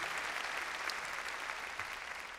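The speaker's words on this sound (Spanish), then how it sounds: "démosle palmas fuertes a nuestro Señor" Church congregation applauding strongly for the Lord during a Spanish-language service, a dense, even wash of many hands clapping at once, continuous and fairly loud.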